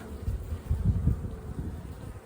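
Honeybees buzz in an open hive during a winter inspection, a close, low, wavering hum with swells as bees move over the brood frames.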